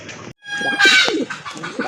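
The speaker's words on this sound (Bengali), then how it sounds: "দেখেন কতটা অ্যাক্টিভ কবুতর আর প্রচুর ডাকে কিন্তু।" Pigeons in a dealer's collection coo and call close by. Several overlapping bursts of cooing and bird noise fill a short, loud stretch, broken by one brief gap.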